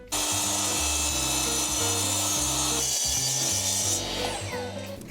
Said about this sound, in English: I'm gonna take it downstairs and just cut it in half with the miter saw